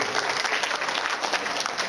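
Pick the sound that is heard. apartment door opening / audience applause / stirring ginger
audience applause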